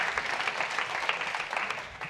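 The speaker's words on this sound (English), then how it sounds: "give the CV team kind of like a round of applause" A crowd applauds steadily, dense overlapping claps filling the room at moderate volume throughout.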